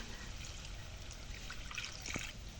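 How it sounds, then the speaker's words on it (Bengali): Water trickles and pours steadily into a pan of frying spices before small fish are added, a faint continuous splashing with no one talking. "একটু পানি দিলাম,"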